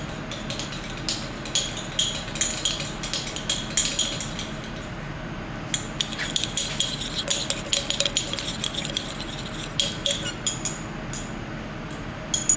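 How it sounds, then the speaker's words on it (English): A stirring rod swirled through copper oxide in a solution, making steady close clinks and taps against the glass over a constant background hiss. "You can just add the copper oxide in like this and give it a good stir."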